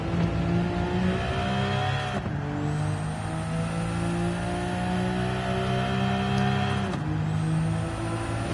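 A Nissan Z-Tune race car in Gran Turismo 7 revs through the gears, its engine note climbing steadily with sharp breaks at two upshifts, loud and continuous with no talk.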